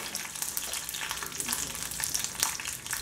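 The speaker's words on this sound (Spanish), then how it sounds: "voy a poner a dorar estos chilitos" Small chili peppers browning in a hot pan for spicy camarones a la diabla: close, bright crackling sizzle with quick popping spatters, continuous throughout, no voices.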